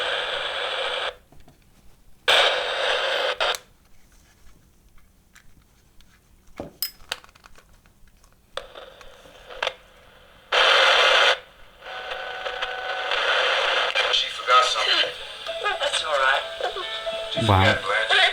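Broadcast speech crackles from a homemade AM/FM radio kit in bursts of tuned sound between stretches of near silence, with hiss and shifting static as the dial moves.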